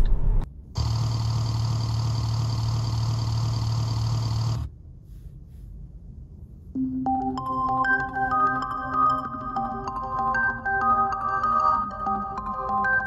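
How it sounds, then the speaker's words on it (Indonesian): Two synthetic pedestrian warning sounds from a Neta V-II electric car play in turn: first a steady buzzy drone, then after a pause a warbling sequence of shifting electronic tones. "dikasih suara aktif biar orang lain atau orang sekitar itu alert atau waspada sama kehadiran mobil ini"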